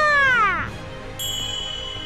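A game character's voice imitates a cat in Tales of Zestiria: one loud, drawn-out meow that slides downward in pitch. A steady, bright chime-like tone follows.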